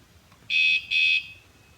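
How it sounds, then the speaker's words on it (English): Two short electronic warning beeps, each about a quarter second, from a Seatylock FoldyLock Compact folding bike lock alarm nearby in an otherwise quiet setting. "If someone comes and tries to mess with the bike, they'll get a warning."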